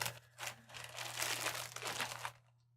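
A plastic bag crinkles as it is opened during the unboxing of a GORUCK GR1 Heritage 21L backpack, a dense, continuous rustle of about two seconds that fades out at the end, heard alone with a steady low hum underneath.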